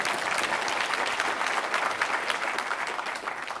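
Applause from an audience at a C++ programming talk, a dense, even patter of many hands clapping at moderate volume that fades slightly at the end.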